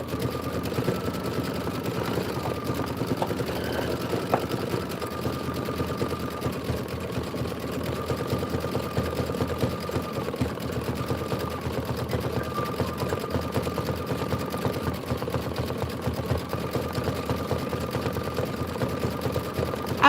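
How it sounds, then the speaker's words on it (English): An embroidery sewing machine stitches foliage on a Kimberbell County Blooms pillow, a steady, rapid mechanical whir and tapping that runs evenly for about twenty seconds, close and alone. "Go ahead and stitch away 3 minutes. This is going to do your foliage."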